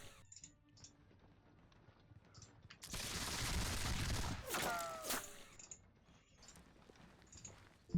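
Gunfire in a War of the Austrian Succession battle game, a dense burst of musket volleys lasting a few seconds against quiet mechanical clicks before and after, fairly faint overall.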